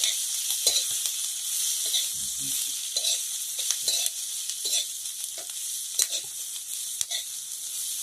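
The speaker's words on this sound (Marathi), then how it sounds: "थोडेसे शेंगदाणे आणि थोडा लसूण हे सगळं आपल्याला छानपैकी भाजून घ्यायचं" Peanuts and garlic roasting in a pan, a steady close hiss broken by repeated scraping stirs and occasional sharp clicks, no voices.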